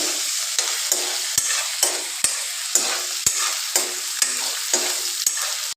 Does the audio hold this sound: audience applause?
no